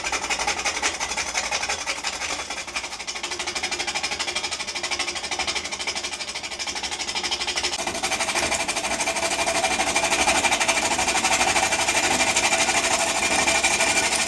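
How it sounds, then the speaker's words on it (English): Wood lathe spinning a large, very wet wooden bowl blank, a steady mechanical whir and rattle with a cutting gouge hiss, the pitch and level climbing slightly as the speed is raised. "As balance improves, I increase the speed."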